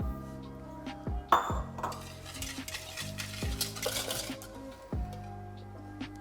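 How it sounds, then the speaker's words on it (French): Egg yolks are whisked with vanilla sugar in a bowl, a steady close scraping swirl with sharp clinks of the whisk striking the rim every second or so, no talking. "on va pouvoir blanchir nos jaunes avec notre sucre vanillé"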